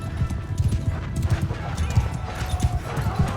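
Horse hooves clop in a steady rhythm from a horse moving through a medieval battle in Mount & Blade II: Bannerlord, fairly close and continuous, with battle noise underneath.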